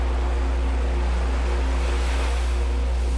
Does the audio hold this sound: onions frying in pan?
no